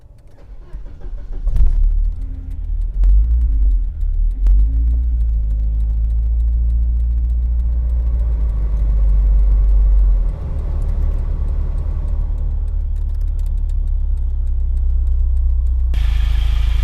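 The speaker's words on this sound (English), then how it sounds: "I will try to start the car" A car engine cranks briefly, catches and roars to life, then settles into a loud, steady idle close by.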